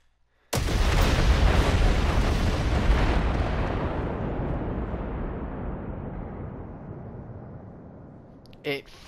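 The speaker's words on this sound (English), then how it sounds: "So you can see the explosions chain reacted their whole way up here." In the video game Generation Zero, a sudden huge blast sets off a chain of explosions that merge into a long, thundering roar and slowly fade over several seconds, with a sharp bang near the end.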